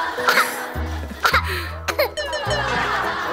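A few short, deliberate fake throat-clearing coughs come in separate bursts, mixed with light giggling and chatter in a home with dogs.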